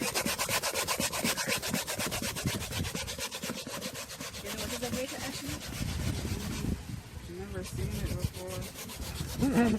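Cassava being grated by hand on a grater for dumplings, a steady rhythmic scraping rub repeating rapidly and closely, with brief pauses and a few faint background sounds.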